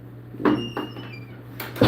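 A door shut indoors on a cold day, a few close knocks and thuds as it swings and latches, with a final louder bang at the end over a low steady hum.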